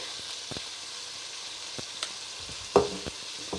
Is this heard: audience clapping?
no